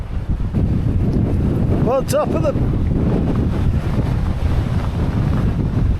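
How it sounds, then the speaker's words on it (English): Strong gusts on an exposed moorland hilltop near a reservoir buffet the microphone with heavy, continuous low rumbling wind noise, while a person briefly speaks partway through. "Wow, that's windy."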